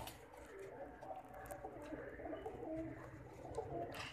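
Pigeons cooing softly at a moderate distance, repeated low murmuring coos over steady background noise, with faint voices present.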